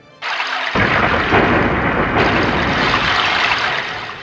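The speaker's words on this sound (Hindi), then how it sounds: "मेघ गर्जना कर रहे हैं, जल बरसने लगा है।" Rain and thunder for a Bhadrapada-month monsoon storm: a broad rushing roar starts abruptly and swells louder after a moment, sustained and heavy throughout with rumbling low weight, no voices.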